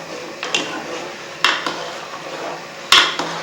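Spoon clinks and scrapes against a metal pot while milk and spices are stirred into palak gosht, with three sharper knocks spaced through a steady low kitchen hiss and no talk.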